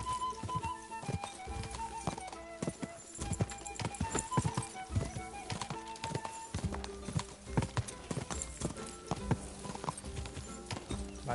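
Horse hooves pound in a rapid, irregular clip-clop gallop in the medieval game Kingdom Come Deliverance 2, loud and close throughout with no talk.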